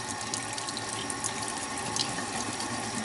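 Warm water gushes steadily from a sink tap, a continuous close splashing hiss that fills the whole moment with no talking.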